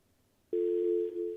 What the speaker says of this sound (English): I heard dial tone.